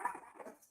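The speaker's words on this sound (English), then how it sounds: "Sorry about my dog." A pet dog gives a short, close whimpering yelp in a quiet room, a single brief whine with no talking over it.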